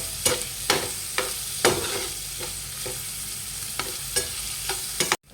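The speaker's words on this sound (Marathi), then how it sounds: "दोन मोठ्या साईजचे कांदे कापून घेतले लाल होईपर्यंत आपल्याला छान फ्राय होऊ द्यायचे" Two large sliced onions fry in a pan with a steady sizzle, broken by regular spoon stirs and scrapes roughly every second; close and continuous, ending abruptly.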